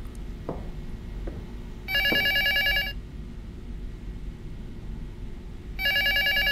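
A telephone rings in the horror video game Prophecy, with two electronic bursts of trilling bells separated by a pause, heard over a low, steady background hum.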